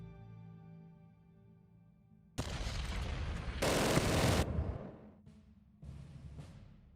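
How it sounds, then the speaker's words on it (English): A sudden burst of intercept gunfire in the wargame Decisive Campaigns: Ardennes Offensive, a dense crackling volley that swells louder for a second, then breaks into shorter bursts over a low hum, with no one speaking. "that's some deadly intercept fire"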